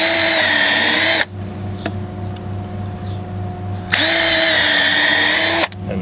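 A power drill pre-drills holes in a wooden raised garden bed in two loud, close bursts of high whine about three seconds apart, with a quieter hum between them.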